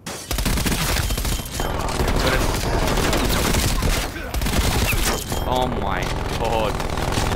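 Dense, continuous gunfire from an infantry gun in a first-person shooter game rattles loudly with rapid bursts, while a player's voice exclaims over it.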